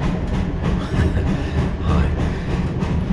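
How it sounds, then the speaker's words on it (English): A commuter train, the 7:43 from Dorking, heard from inside the carriage as a loud, steady rumble with rhythmic wheel clatter and rattling, no voices. "I'm on the train now, the 7:43 from Dorking."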